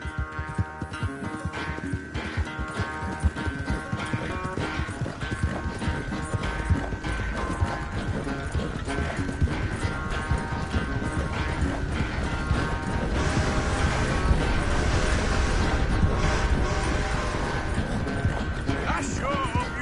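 Rhythmic clip-clop of horse hooves in Red Dead Redemption, steady galloping hoofbeats mixed with creaking tack and mechanical game sounds, loud and continuous, with a voice speaking over parts of it.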